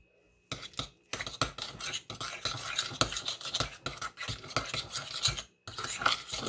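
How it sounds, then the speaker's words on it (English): Softened butter being creamed with a spoon in a bowl, close rhythmic scraping and clicking strokes in quick irregular bursts, with a brief pause near the end. "I'm going to just go ahead and try to cream this up with a spoon"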